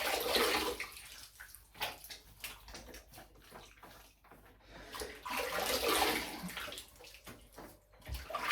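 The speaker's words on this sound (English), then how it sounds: "Wash the face off." Running water splashing as a face is rinsed at a sink after a razor shave, uneven surging gushes and splatters rising and falling close by, with no talking.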